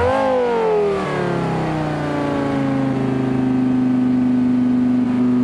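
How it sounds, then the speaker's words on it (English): An F1-derived V10 of about 700 bhp in a station wagon in BeamNG.drive fires up, its pitch sliding down from a rev flare into a steady, loud, smooth idle drone heard alone. "So let's start this up, and here's the new torque graph, 700 bhp and 294 brake horsepower. So start her up."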